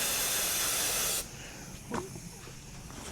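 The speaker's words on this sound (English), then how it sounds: "we will spray it out with Carb Clean" Carb Clean spray blasts through a dirtbike carburetor as a loud, steady hiss for about a second, then cuts off, leaving faint handling clicks and a soft thump.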